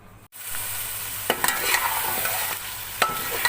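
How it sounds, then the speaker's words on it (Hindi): Whisked yogurt masala for mutton paye sizzles steadily in a pan while a spoon scrapes and stirs through it, with a few sharp clacks against the vessel, close and without talk. "अब इसको थोड़ा भून लेते हैं।"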